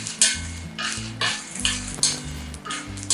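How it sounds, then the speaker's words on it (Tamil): Tamarind and dried red chillies dry-roasting in a pan for curry leaf powder give a close, rhythmic run of scraping, rattling stirs every half second or so over a low background hum. "இப்ப இதுல ஒரு 11 காஞ்ச மிளகாய் சேர்த்துக்கலாம்"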